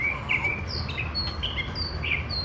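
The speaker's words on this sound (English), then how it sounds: "That's a mockingbird." Mockingbird calling nearby in a fast string of squeaky, varied chirps and whistled notes, lively and clear over a soft background rumble.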